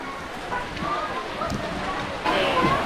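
Steady rain falls outdoors on cars and leaves, a continuous hiss of drops on surfaces that grows a little louder near the end, with people talking nearby.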